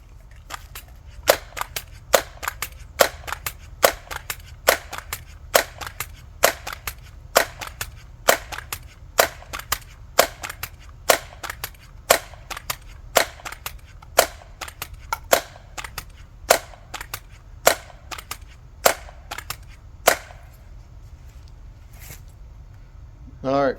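Daisy Model 901 air rifle fired after 20 pumps, each shot a sharp crack repeating about every second for roughly twenty seconds, loud and close, with a low steady background hum and no voice.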